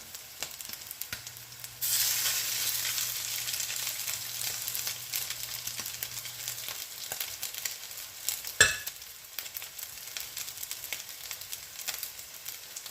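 Tuna patties frying in hot oil give a steady, loud sizzle that starts abruptly and carries on throughout, with a sharp clatter partway through and no talking.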